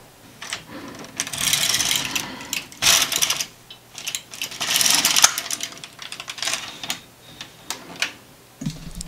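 A carriage sweeps across an LK150 knitting machine to knit one plain row, giving clattering mechanical rattles and ratchet-like clicks in several bursts, close and fairly loud, with no one talking.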